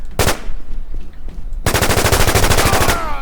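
Machine gun fire in the online shooter War Inc: a short burst, then a long rapid automatic volley of dense regular shots, loud and close, with no talk.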